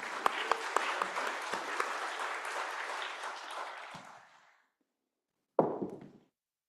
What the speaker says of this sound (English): And please give them a big applause because they have stick to the time as well.